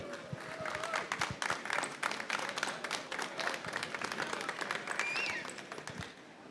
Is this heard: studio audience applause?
yes